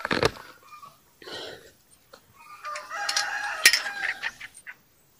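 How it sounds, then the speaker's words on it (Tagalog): Free-range chickens cluck and a rooster crows in an outdoor range area, the crow rising loud and near in the middle while softer clucks come before and after. "Mayroon po tayong nakikitang mga kapapasok lang yata nitong mga manok na ito eh"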